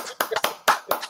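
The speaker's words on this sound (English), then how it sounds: "let's all give a giant round of applause" A few sharp hand claps sound close by in a short, uneven burst of applause for an arriving guest on a talk show.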